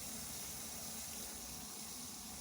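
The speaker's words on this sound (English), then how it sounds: "I'm going to turn on this water first." A laboratory water tap runs steadily to drive a vacuum filtration setup, giving a continuous broadband rushing flow at even level throughout, with no talking.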